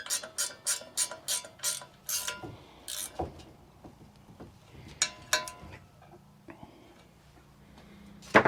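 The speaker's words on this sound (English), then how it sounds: "I got the ratchet wrench on the right way, right away" A ratchet wrench clicks in quick bursts of sharp ratcheting strokes while an Arctic Cat Ramrod frame is reassembled after paint, followed by softer metallic handling and a final loud click burst.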